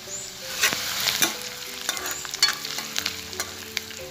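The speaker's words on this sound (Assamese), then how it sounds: "আৰু এইফালে পিঁয়াজখিনিও ভজা হৈ আছে" Onions fry with spices in a hot pan, giving a steady bright sizzle broken by repeated scraping stirs, close and fairly loud with no talking.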